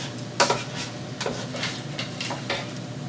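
Spoons clinking and scraping inside a bowl in a home kitchen, a few separate clatters spread across a short moment, close and fairly quiet with a soft room hiss.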